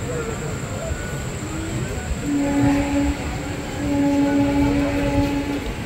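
Special-fare train 03162, Digha to Dakhineswar, pulls away from platform 1 at Mecheda station, heard from inside a second-class coach. Steady rolling rumble, with a long horn blast sounding twice over the noise.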